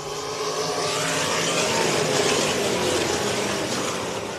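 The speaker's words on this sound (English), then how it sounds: "Out of turn number 4, the engines come up to speed." Race car engines on a dirt oval at a Friday-night feature race roar together as the field comes out of turn four and accelerates to the green flag, a dense, steady, loud engine drone throughout.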